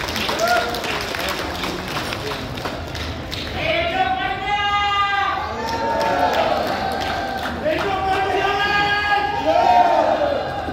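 Audience applause at an installation ceremony for an association's board in a Batam hotel, a crowd clapping in a sustained wash while a loud voice and music-like tones ring over it.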